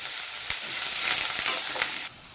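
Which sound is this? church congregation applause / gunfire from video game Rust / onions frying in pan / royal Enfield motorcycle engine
onions frying in pan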